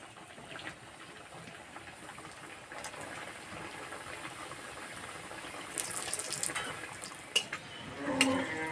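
Snacks fry in hot oil in a wok, a soft continuous bubbling sizzle that swells slightly toward the end, with a few sharp clinks near the close.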